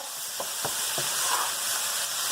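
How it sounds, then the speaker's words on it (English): Fajitas sizzle in a hot pan with a constant close frying hiss, while a few quick clicks and scrapes from stirring come through near the start. "Amy, do you think I'm cooking it too fast? Should I turn it down lower?"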